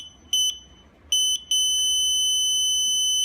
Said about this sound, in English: for this one, it's only using a buzzer